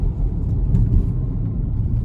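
Deep, steady engine rumble from cars at an outdoor car show, heard from a distance as a continuous low drone with no talk over it.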